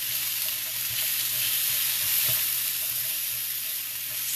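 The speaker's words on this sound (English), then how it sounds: "I want to watch and make sure those sausages get cooked all the way through" Sausages frying in a pan, a steady close sizzle of fat with faint stirring clicks running evenly throughout, no voices.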